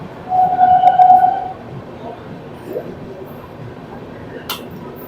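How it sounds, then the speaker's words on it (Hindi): Duronto Express train passing Mathura Junction at speed without stopping, a steady broadband rumble throughout, louder in the first second and a half with a faint tonal whine, and a brief sharp click near the end. "हमारी दुरंतो एक्सप्रेस अच्छी खासी स्पीड में जो है हमारी दुरंतो एक्सप्रेस मथुरा जंक्शन को स्किप करती है"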